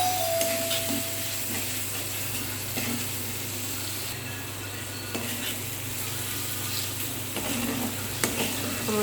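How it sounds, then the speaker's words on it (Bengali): Spices being stir-fried in a pan before taro stolons go in: a steady, low sizzle with scraping and stirring throughout, moderately close, with no talking. "এইভাবে ভালো করে এগুলো কষিয়ে তারপরে লতিগুলো দিয়ে দিই।"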